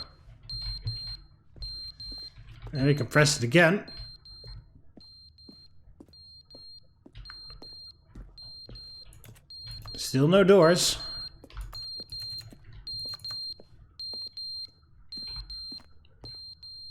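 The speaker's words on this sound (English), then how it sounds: "fire alarm is going off" Fire alarm in The Stanley Parable video game, regular high beeps repeating steadily throughout while someone talks twice over them.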